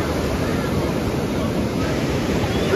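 Sea waves wash onto the shore at Digha beach, a continuous close roar of surf with wind buffeting the microphone and no clear talk.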